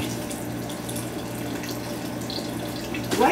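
Condensate water drains steadily out of a leaking AC system, a continuous close trickle and splash with a low hum underneath and a brief louder splash at the end.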